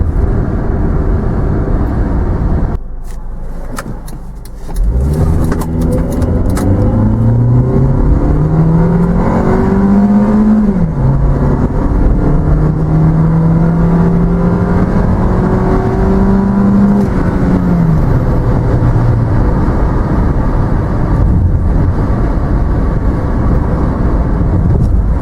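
A 2000 Honda CR-V with a small 4-cylinder engine pulls hard up a gentle incline, its steady engine tone climbing through the gears with loud, continuous road and wind noise and no talking.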